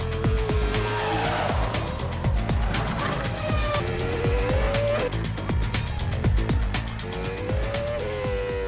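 McLaren Formula 1 cars scream past while overtaking in a race, a continuous loud, high-revving engine wail with rising and falling pitch and bursts of tire squeal.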